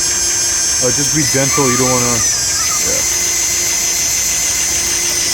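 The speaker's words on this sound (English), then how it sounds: "we get a drill machine and we just drill inside the center of the clip" A power drill whines steadily while boring out a rivet on a 2016-2019 Ford Explorer license plate bracket, a loud high-pitched drone running throughout, with someone talking over it.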